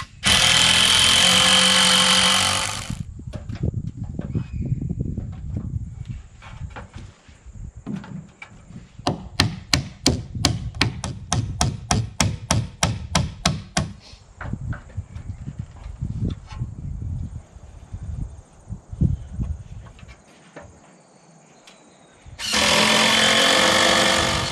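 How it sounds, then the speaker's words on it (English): Hammer driving nails into wooden rafters on a tiny cabin build, a run of sharp, loud, rapid strikes in bursts, sounding close, with quieter taps and pauses between. "I'm just nailing these in at the moment"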